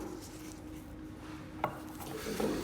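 A nail file works a fingernail during a square-to-oval shaping correction, giving a soft close rubbing rasp with a sharper scrape partway through.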